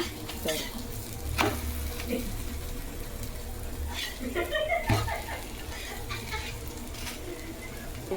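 Onions frying in a pan, a continuous sizzle with intermittent stirring scrapes and soft pops, heard up close while a person talks over it.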